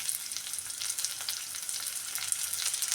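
Green chili and onion fry in hot oil in a pan. The sizzle is close, steady and crackling, with bright spattering pops all the way through and no voices.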